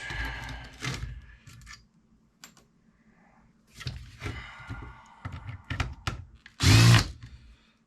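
Short bursts of a power drill whirring at intervals, removing screws from a conference camera, with clicks and clunks of handling between them, ending in one loud, close burst.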